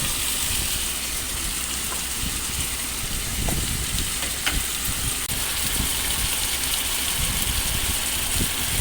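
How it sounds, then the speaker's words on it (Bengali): Potatoes hit a pan of well-fried spices for a potato curry, setting off a steady, dense sizzle that stays even and close throughout, with occasional small stirring knocks. "সমস্ত মশলা খুব ভালোভাবে কষিয়ে নিয়ে এবার দিয়ে দিচ্ছি আলুগুলোকে"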